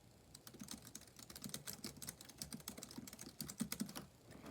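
Rapid, light clicking of keys on an OMOTON KB505 Bluetooth keyboard, a dense, steady stream of quick little taps recorded quietly and close, with no talking.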